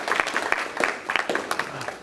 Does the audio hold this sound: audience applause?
yes